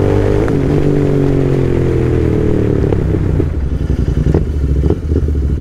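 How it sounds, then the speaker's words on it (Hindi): A modified Royal Enfield Continental GT 650 cafe racer's exhaust roars loudly and continuously nearby, with a deep rumble and crackling pops as the throttle shifts. "बट इसकी आवाज़ लिटरली बहुत ज़्यादा है, ऐसा लगता है कोई फायर हो रहा है।"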